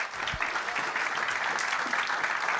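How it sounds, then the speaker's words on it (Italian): Applause at a regional Paralympic sports gala in Veneto, a loud and continuous burst of clapping from a large audience. "Facciamo un grandissimo applauso a Xenia Francesca Palazzo."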